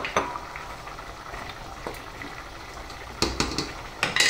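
Water boils over high heat in a pot for a chickpea and wheat stew, bubbling with a low continuous rumble, punctuated by a few clinks of metal utensils against the pan.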